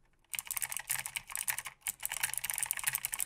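Rapid typing on a Logitech keyboard with GX Blue clicky switches, a dense close-up stream of crisp, sharp key clicks after a brief silent start, with one short pause midway.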